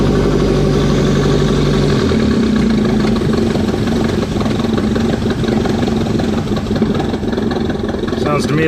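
A 1986 Shelby Charger autocross build engine idling right after its first start, a loud, steady, slightly uneven rumble close by, with voices talking over it.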